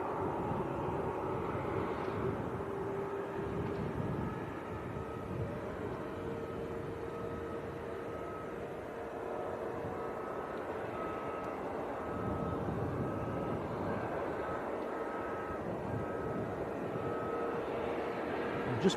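A Ryanair airliner departs Leeds Bradford Airport with a continuous low jet roar and broadband rumble. The sound carries at moderate distance and fades a little over nearly twenty seconds, with some wind noise and no clear speech.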